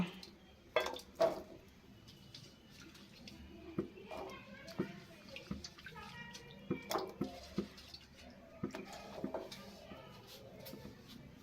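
Raw mangoes drop into hot water in a wok, giving quiet, scattered plops, splashes and clinks spread across the stretch in an uneven rhythm, faint and close by.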